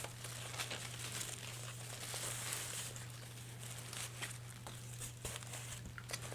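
Gel-printed craft paper is crumpled and handled at a tabletop, producing soft, continuous crinkling with scattered sharper crackles, fairly quiet and close, with no talking.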